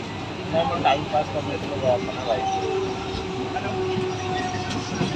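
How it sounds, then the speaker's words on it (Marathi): A Mumbai local train rumbles steadily along the tracks with a faint whine, while people talk nearby inside the carriage. "आपली ट्रेन येईल आणि आपण ट्रेनमध्ये आता जाणार आहे"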